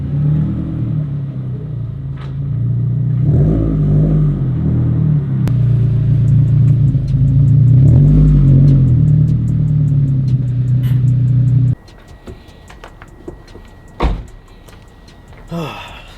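A Lexus IS300 engine idles in a garage with a deep, loud rumble for several seconds, then cuts off, leaving faint clicks and quiet mechanical noises.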